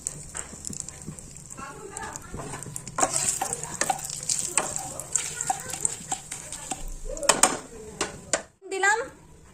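A torn bay leaf sizzles and crackles in hot mustard oil in a wok, a busy frying hiss with stirring and pan clatter throughout.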